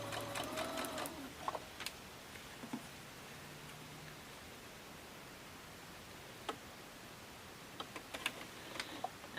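A sewing machine stitches rows of a mini quilt together in quiet, intermittent bursts, pausing between runs with a few soft rustles of fabric being handled.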